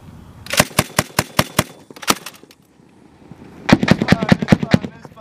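A US military Mk 19 grenade launcher fires rapid bursts of loud, sharp reports, first a steady string of about half a dozen shots, a pause, then a denser, faster volley echoing outdoors.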